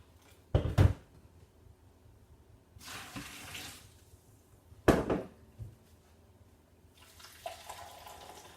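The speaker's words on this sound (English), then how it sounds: "I'm going to stick 2 litres of boiling hot water in there" Two litres of boiling water are poured onto sloes in a container in short bursts, with a couple of sharp knocks and clatters between the splashing pours, close by and without any speech.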